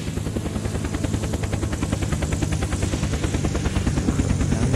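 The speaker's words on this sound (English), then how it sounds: "Oh, guys. Helicopter." Helicopter in the survival video game Unturned, its rotor thumping loud and steady in fast, even beats that fill the whole stretch, with no talk over it.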